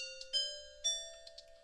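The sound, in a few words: carillon chimes instrument sound played in MuseScore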